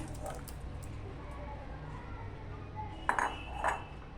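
Grated cucumber is poured into a cooking pot, with quiet rustling followed by a few sharp metallic clinks against the pot near the end.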